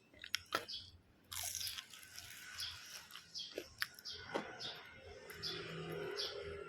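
Crunchy fried banana in a rice and wheat flour batter being bitten and chewed up close, with a run of crisp crackling crunches and soft mouth sounds.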